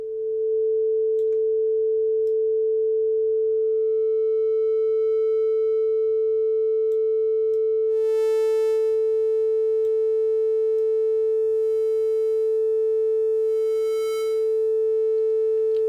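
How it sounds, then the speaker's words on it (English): A synthesizer oscillator holds a steady pure sine tone as a triangle wave is gradually blended in, so the note grows brighter and buzzier over a long continuous drone with no talking. "Now we just have our cycle, we just have our sine wave, but I can then slowly turn up the triangle wave and we can hear the difference"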